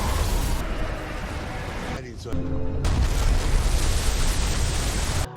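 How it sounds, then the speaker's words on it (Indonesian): A big ship explosion from the film Expendables 4: a loud, dense roar of blast and rumble filling the scene, dipping briefly before surging back with heavy low-end debris noise. "kemudian terjadi ledakan besar."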